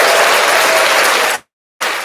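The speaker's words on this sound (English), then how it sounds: "Round of applause for it" Studio audience applause on a live radio talk show, a loud, dense burst of clapping that cuts off abruptly, drops to silence, then resumes.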